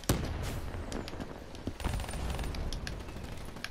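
Gunfire in a Call of Duty: Black Ops III team deathmatch, scattered distant shots and short bursts over a steady background rumble, with no talk.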